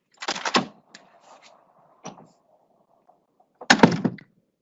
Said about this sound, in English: let's first hear what this door sounds like just naturally